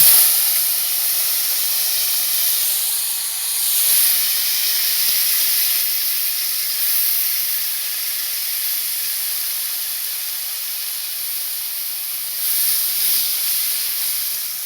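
Bottle gourd greens and potato hitting a hot wok, a loud, steady steam-like hiss and sizzle lasting throughout, with slight swells as the food settles.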